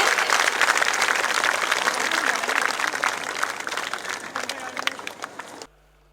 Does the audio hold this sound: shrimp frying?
no